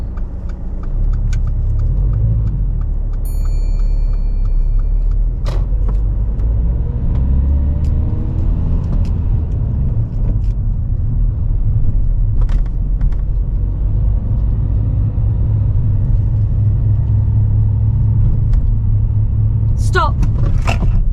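A car pulls away during a driving test, its engine a steady low rumble throughout, with brief clicks and knocks inside the cabin while people talk over it.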